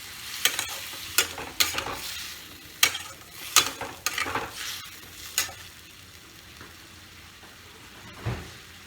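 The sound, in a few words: stir-frying pumpkin curry with water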